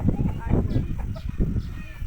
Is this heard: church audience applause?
no